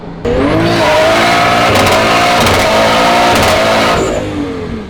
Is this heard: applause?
no